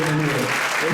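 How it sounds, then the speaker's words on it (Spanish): Brief audience applause at a pro-life candidates' conference: a short, dense burst of clapping from a room of people, loud and close, with a voice faintly underneath. "Yo les agradezco enormemente los aplausos"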